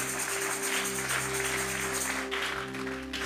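A church congregation clapping together in worship, a steady dense wash of applause that fills the room throughout, with a sustained organ or keyboard tone held beneath it.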